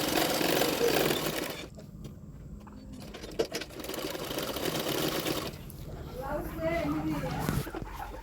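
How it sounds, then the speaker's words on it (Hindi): A sewing machine stitches along the edges of the lining fabric for a double katori blouse. It runs in steady mechanical bursts with short pauses between them, and someone talks over it. "पूरी अस्तर की फैब्रिक में किनारे किनारे पे एक एक सिलाई डाल दूंगी।"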